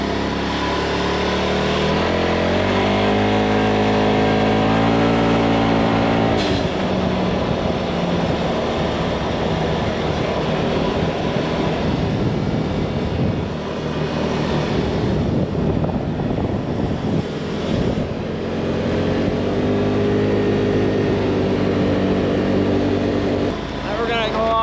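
A Polaris RZR Turbo side-by-side with a clutch kit, its engine running steadily and loud with a droning, buzzing tone that rises in pitch at times, under heavy wind buffeting.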